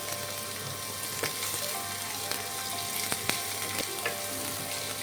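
Chopped onion sizzles in oil with bay leaves, cardamom, cinnamon and cloves for an eggplant bharta, a soft continuous crackle with several sharp spatula taps on the pan.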